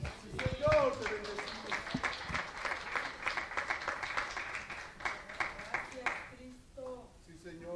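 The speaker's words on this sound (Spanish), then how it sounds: "denle un aplauso al Señor" A church congregation applauds, a dense burst of clapping that rises quickly and holds for several seconds before fading, while a voice speaks over it at the start and again as it dies away.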